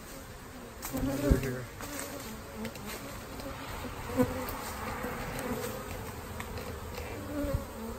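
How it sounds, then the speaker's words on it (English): Bees swarm and buzz around a swarm trap box mounted up on a nail outdoors, making a steady droning hum with louder passes near the microphone, while a person speaks briefly. "See all these bees flying around up here?"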